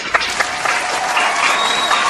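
Game-show studio audience applauding steadily for about two seconds, a dense wash of clapping at an even level with no voices over it.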